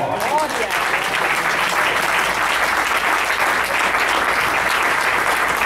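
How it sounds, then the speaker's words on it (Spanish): A church congregation applauding during a sermon, a broad steady wash of many hands clapping together, sustained and fairly loud, with some voices mixed in underneath. "Dale un aplauso al Señor."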